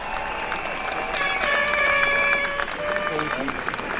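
A crowd at a police protest on a Paris street applauds for a rapper, clapping and cheering rising to a peak then easing, with whistles and voices mixed in and people talking throughout.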